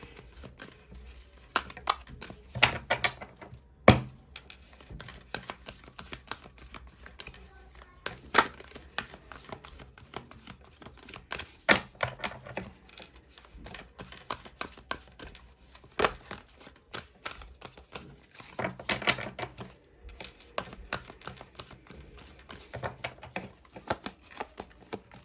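Oracle cards are shuffled and drawn from the deck at a tarot reading, a quiet, close run of irregular crisp flicks, taps and card slaps with short pauses between.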